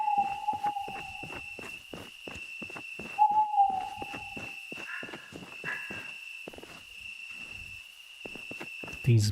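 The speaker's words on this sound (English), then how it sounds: "These bloody birds are loud." Birds hooting at night in a survival video game, repeated loud hoots in a regular series, with soft clip-clopping steps and a steady high insect-like drone beneath.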